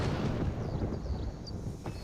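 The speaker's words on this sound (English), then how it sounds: "That was a concerning explosion noise" A muffled explosion rumbles from Horizon Forbidden West gameplay, a low, sustained boom that fills the short moment at moderate volume without any talk over it.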